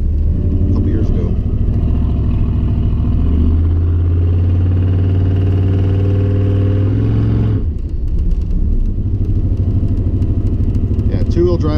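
A pickup truck drives through snow in four-wheel drive, its engine droning loud and steady with rising revs, then dropping into a rougher, lower rumble with crunching tire noise toward the end.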